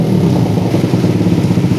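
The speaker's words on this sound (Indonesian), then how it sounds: "Nah itu di RPM bawah itu udah nggak ada ngeses atau berebet ya." A motorcycle engine with a tuned PWK carburetor idles at low RPM, giving a close, loud, steady pulsing thrum without sputter.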